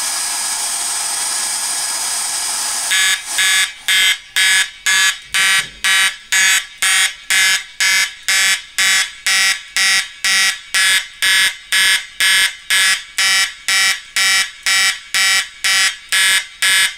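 Steady hair dryer blowing on a heat detector gives way to EST fire alarm horns on a Potter PFC 4064 system blaring in rapid, evenly spaced pulses, loud and relentless, with the dryer still running underneath.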